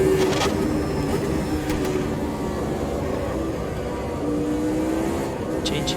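A McLaren M23 race car, James Hunt's 1976 championship car, driven in Automobilista 2, with its engine droning steadily under load. The pitch sags and rises slightly through gear changes, loud and continuous with no voices.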